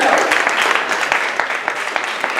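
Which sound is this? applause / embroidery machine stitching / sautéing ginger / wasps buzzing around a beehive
applause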